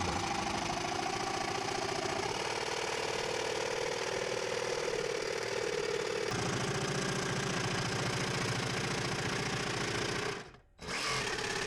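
A cordless jigsaw fitted with an aluminium-cutting blade saws through aluminium tube: a continuous, buzzing mechanical whine that shifts pitch partway through and then briefly cuts out near the end.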